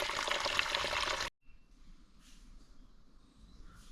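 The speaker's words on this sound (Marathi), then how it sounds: "इथं मस्त पपईच्या झाडाला नळी सोडली पाण्याची खाली म्हणलं आधी भाजी स्वच्छ धुवून घ्यावी" A water hose runs beside a papaya tree to wash vegetables, giving a loud steady rush that cuts off abruptly partway through, leaving only faint trickles and background noise.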